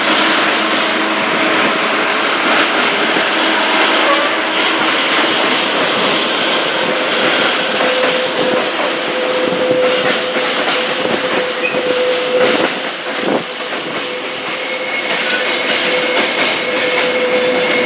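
A Canadian-built freight locomotive in old Freightliner livery rolls past at Willesden Junction. Loud, close, continuous rumble with rhythmic wheel clatter and a faint metallic tonal whine, heard alone without talk.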